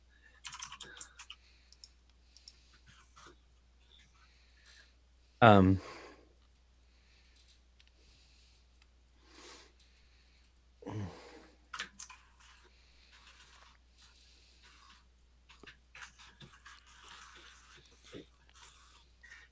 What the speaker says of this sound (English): Let me type this in so I can talk.